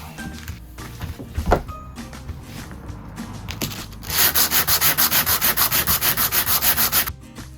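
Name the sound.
sanding a rough surface flat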